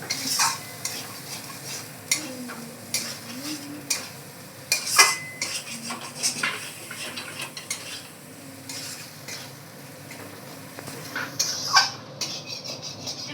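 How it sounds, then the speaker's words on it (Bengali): Chopped tomatoes cooking down in a spice masala in a pan for a fish-head curry, soft bubbling sizzle under frequent clinks and scrapes of a utensil stirring, close-up, with no one speaking. "টমেটম কুচিগুলো দিয়ে দেবো মশলাটাকে ভালো করে ফুটিয়ে করবো"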